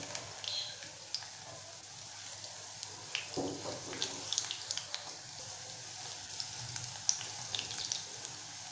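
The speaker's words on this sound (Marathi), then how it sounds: "आता आपण याला दुसऱ्या साईडनेही फ्राय करून घेऊया" Soybean chunks frying in a pan for a Malvani-style spicy soya chilli, a steady soft sizzle with small crackles and pops throughout, close by and fairly quiet, with no voices.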